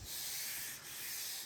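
Sanding primer on the door of a 1974 GMC Suburban during bodywork, a steady close abrasive rasp with a brief dip midway, heard alone.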